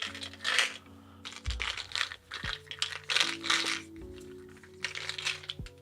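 Small runes rattling and clattering inside a box being shaken, a series of sharp clicks and knocks coming in bursts with brief pauses, close and fairly loud.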